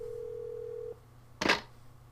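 A steady electronic telephone tone in the PS1 video game Clock Tower holds for about a second and cuts off, followed by a brief burst of noise.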